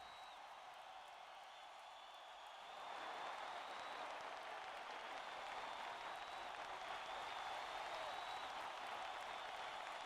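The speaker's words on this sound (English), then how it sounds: "Can we also give him a round of applause?" An audience bursts into a round of applause for a guest at a live show, steady dense clapping that rises partway through and then holds at a constant level, with no talk over it.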